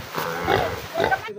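A native pig on a backyard farm lets out two close, loud grunts in quick succession within a short moment.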